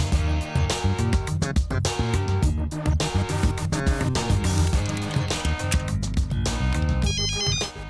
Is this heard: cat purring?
no